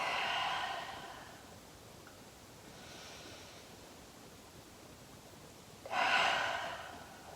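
Deep breaths during a gentle seated stretching workout for seniors: a long exhale at the start, a fainter breath midway, and a louder, breathy inhale near the end, close and unaccompanied by talk.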